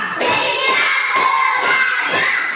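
Elementary schoolchildren in a fifth-grade classroom clap in unison five times, each loud collective clap evenly spaced about half a second apart, with a bit of kids' chatter underneath.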